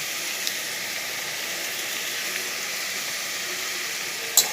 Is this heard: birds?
no